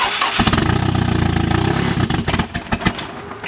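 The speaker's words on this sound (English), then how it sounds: "The clutch isn't bled, so it's gonna buck." An SR20DET car engine runs rough and bucks from an unbled clutch, its loud steady drone breaking into uneven surges and lurches toward the end, close by.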